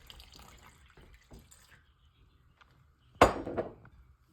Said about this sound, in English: now I'm just gonna dump the water on